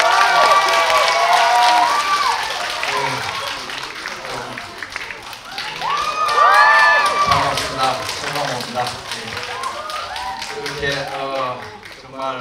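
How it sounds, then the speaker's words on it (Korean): A cinema audience at the CGV Yongsan stage greeting for the film Emergency Declaration claps and cheers throughout, with high shrieks and excited voices rising over steady applause that swells midway. "뜨거운 박수"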